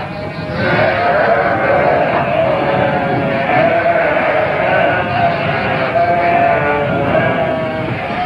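Sheep bleat in a flock in a Bible story about a lost sheep, the loud continuous calls overlapping and steady with no pauses, filling the whole stretch.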